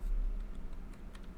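Keys on a computer keyboard clatter in a brief burst of soft, quick taps, faint and close in a quiet room.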